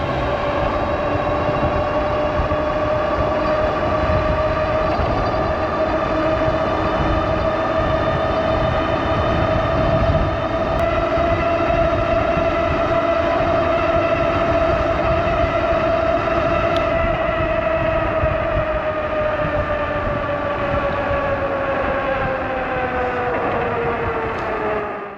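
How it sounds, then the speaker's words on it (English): A Furious Road Warrior dual-motor e-bike runs at full assist level 5 on battery power alone, giving a steady loud electric motor whine that holds high and climbs slightly, over continuous wind and road rumble. "So here's a speed test, battery only, level assist 5, full on dual motor."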